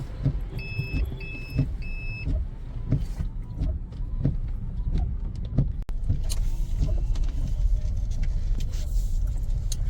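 Vehicles crowd a large parking lot at a village fair at Kapuri na Nes on a rainy day. A steady rumble of cars and engines carries short electronic beeps early on, with scattered knocks and faint voices in the background.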